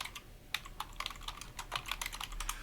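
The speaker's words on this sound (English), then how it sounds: "Let me type this down." Typing on a computer keyboard, a close, quiet run of irregular key clicks and taps in quick bursts, with no voices.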